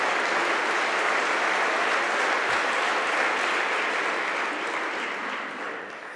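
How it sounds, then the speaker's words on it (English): Sustained applause from a large conference audience, steady and dense, tapering off slightly near the end. "start the day with a round of applause for the ones unseen"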